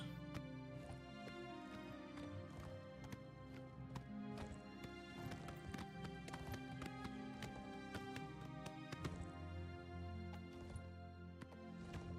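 Steady, rapid clip-clop of horse hooves trotting in the video game Oblivion Remastered, rhythmic and continuous over background music, with no talking.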